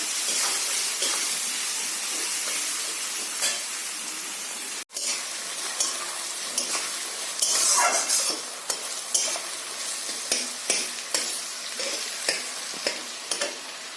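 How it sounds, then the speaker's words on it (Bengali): Onions fry in a pan until reddish, giving a steady hissing sizzle broken by a brief gap, then intermittent scraping stirs over the bubbling oil. "এবার পেঁয়াজটা একটু লাল লাল করে ভেজে নিই"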